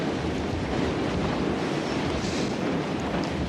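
Strong wind blows steadily on open Western land as a constant, loud, full roar with no pauses and no voices.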